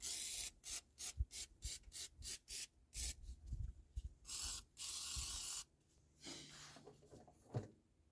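WD-40 aerosol sprays onto the kick down cable and other car parts in short, sharp bursts repeated rapidly, close and hissing, then a longer spray after a pause.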